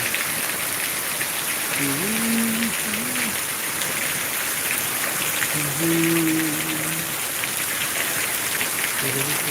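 A downpour in Gujarat keeps up a thick, steady hiss, while a few faint, tonal voice-like calls rise briefly beneath the rain.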